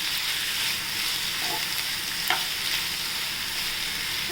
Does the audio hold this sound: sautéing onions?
yes